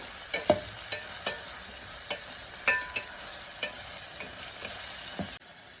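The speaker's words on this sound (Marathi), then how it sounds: "मस्त असं तेल सुटेपर्यंत छान कांदा आणि टोमॅटो परतून घ्यायचं." A spoon stirs onion and tomato frying in oil in a pan, in a hostel kitchen. Soft, regular clinks and scrapes come about twice a second over a faint sizzle, close by and with no talking.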